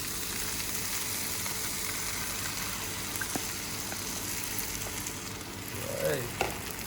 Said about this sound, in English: then in goes your egg mixture